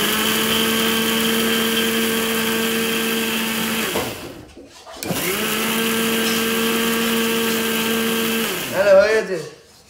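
A kitchen blender grinds ginger, garlic, onion, chili, cumin and turmeric into a paste, running loud and steady in two long bursts with a short pause between, ending in a rough churning surge as it stops.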